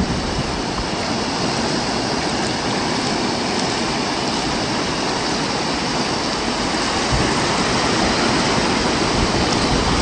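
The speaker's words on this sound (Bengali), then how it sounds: "সমুদ্রের ঢেউয়ের আওয়াজটা তোমরা শুনতে থাকো।" Sea waves break and wash continuously on the beach at Mandarmani, a broad, steady roar of surf that fills the whole span without pause or voices.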